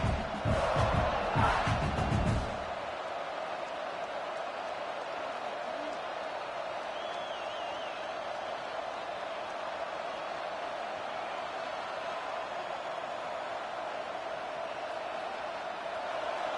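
A stadium crowd at a college football game between Tennessee and South Carolina roars in a loud burst for the first few seconds, then settles into a steady, distant crowd murmur and hum that lasts to the end.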